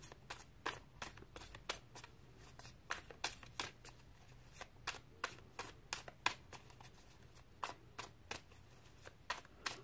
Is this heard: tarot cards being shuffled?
yes